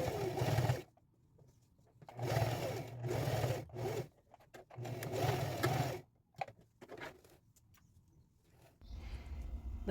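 Sewing machine stitching a lining of denim and vinyl, running in steady whirring bursts of a second or two separated by short pauses, close and clear with no talk.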